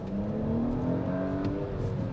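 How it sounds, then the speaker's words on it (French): An Audi S5 Avant in dynamic mode revs its engine, the exhaust note rising in a steady, fairly loud growl that climbs and holds for about two seconds with no talking. "ah là, l'échappement et le moteur se réveillent."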